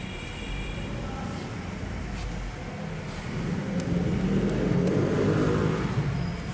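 A Rusi Sparkle 150i scooter on its center stand starts up, its small engine settling into a steady idle hum that grows louder and fuller partway through.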